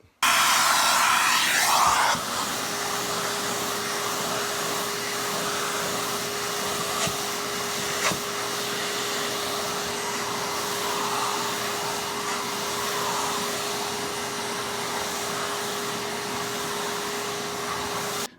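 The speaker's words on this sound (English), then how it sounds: "once we start sanding with this, the dust is going to get picked up through the screen, go into the vacuum, and go over there in the shop vac" A Goldblatt dust-free hand sander with a shop vac attached runs continuously, its steady vacuum whine and airflow hiss holding a constant tone after a louder burst at the start as it kicks on.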